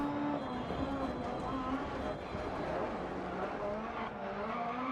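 A Super 1600 rallycross car skids and slides through a chicane in DiRT Rally, its engine and tyre scrub rising and falling beneath excited commentary.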